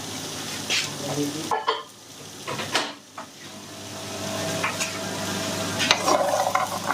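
Peanuts roast in a pan for caramelizing, sizzling under steady scraping stirs with scattered clatters, close and fairly loud.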